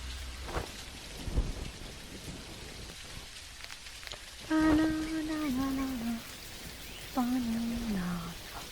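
Steady rain pours down in the farming life game Dinkum, a continuous hiss with low rumbles of thunder, while tonal in-game chimes or music notes sound briefly in the middle.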